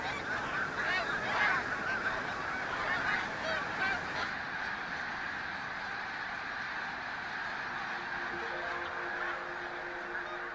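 Geese honk outdoors in a continuous, busy chorus of overlapping calls that is denser at first, then thins to a steadier, fainter murmur with a few tonal notes near the end.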